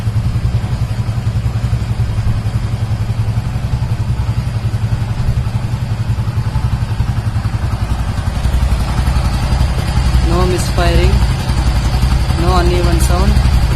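A Hero Honda motorcycle engine runs loudly and steadily at close range after one kick start and settles into a smooth, even idle, while someone talks over it near the end.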